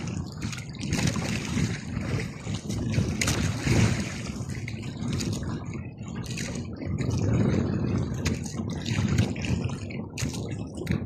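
A small fishing boat pitches on big sea swells, with water sloshing and slapping against the hull in steady surges, close and continuous with no talk.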